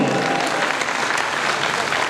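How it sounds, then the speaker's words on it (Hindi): Audience applause at a 2021 yarn dyeing company party, dense and continuous clapping from a crowd held at a steady level throughout. "अगर मसला जेनवन है तो तालियां भी जेनवन होनी चाहिए।"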